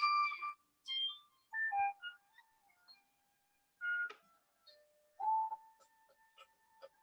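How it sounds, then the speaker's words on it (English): A phone plays a melodic electronic ringtone, bright chiming notes in repeating bursts with short pauses, moderately loud and clear with no one talking over it. "Madhura, phone ge bara."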